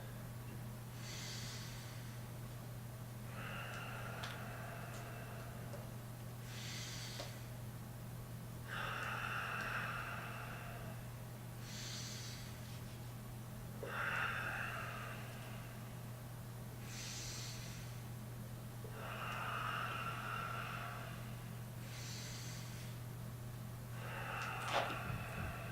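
Slow, steady breathing during a yoga session alternates soft hissing inhales and exhales in an even rhythm over a constant low hum, with no talk.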